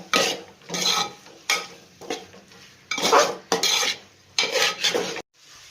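Potato pieces and tomatoes being stirred and sautéed in a pan for Kerala chicken mappas, with repeated scraping strokes of a utensil against the pan in bursts, close and fairly loud, with no talk.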